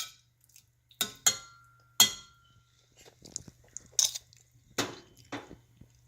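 Someone eating rehydrated freeze-dried homemade pasta with shrimp: crunchy bites and chewing come in separate bursts, mixed with light clinks of cutlery against a dish, close and fairly loud over a faint steady hum.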